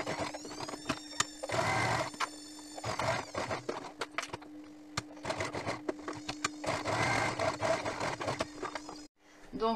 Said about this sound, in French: je vais venir passer une couture ici comme ça